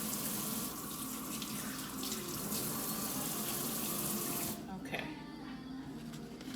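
Tap water runs steadily into a container for indoor seed sprouting, a broad hiss that cuts off near the end, followed by softer handling sounds and a brief spoken word.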